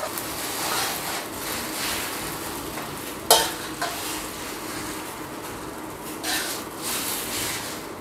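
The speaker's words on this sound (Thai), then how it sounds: "โอเคเราจะผัดประมาณนี้นะครับ" Noodles stir-fried in a wok while cooking rad na with pork, a steady close sizzle with scraping stirs throughout and one sharp metallic clank of the utensil partway through.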